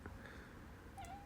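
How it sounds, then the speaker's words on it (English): A single short, faint meow from a house cat indoors, a quick rising-falling call near the end over low room noise. "Oh, and there's cats too."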